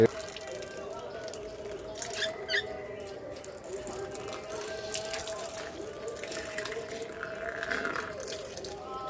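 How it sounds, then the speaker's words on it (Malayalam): Water splashes and drips while sandals are washed outdoors, a steady patter of liquid with scattered splashes and light handling noises continuing throughout. "നമുക്ക് ഈ ചെരുപ്പൊന്ന് കഴുകാം കേട്ടോ"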